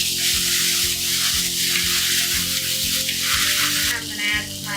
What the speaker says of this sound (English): so I'm going to add my matar.